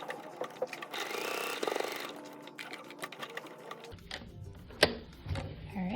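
A sewing machine stitches a paper-pieced quilt block in quick rhythmic bursts, close and fairly quiet, with short pauses and a sharp clack near the end.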